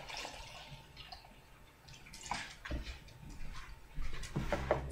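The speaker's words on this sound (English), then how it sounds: "And the rest is going to be topped up with cold water." Cold water poured into a container of dissolved white tea for iced pear tea, with soft irregular splashing and dripping at close range that grows a little fuller toward the end.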